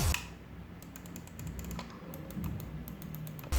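Rapid, irregular clicking of a noisy gaming mouse with colour-changing lighting, close and fairly loud, with sharp ticks repeating alone over a low background hum.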